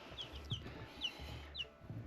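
Chickens on a farm where a rooster runs with the laying hens, giving several short clucks and calls at moderate distance over quiet outdoor background.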